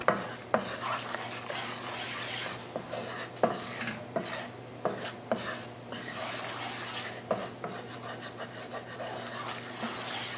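Food frying in a pan for Croatian sarma stuffed peppers, a soft steady sizzle under repeated scraping and stirring strokes of a utensil, close but fairly quiet.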